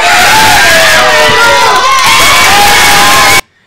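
A large crowd shouts and cheers loudly and continuously, a dense wall of excited voices and screams that cuts off abruptly at the end.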